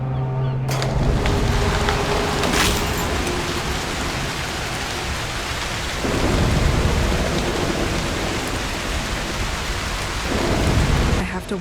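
Steady heavy rain hisses alongside rolling thunder in the Broken Pieces video game, a loud dense storm that swells at intervals and plays alone with no voices.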